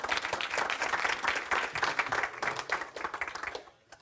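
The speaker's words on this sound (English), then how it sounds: "give yourself a round of applause, folks" A hypnotherapy workshop audience applauds after a trance session, dense sustained clapping from many hands that carries steadily and fades out near the end.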